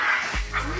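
Dogs react to a magic trick with a brief burst of yipping barks and a whimpering whine, close and fairly loud.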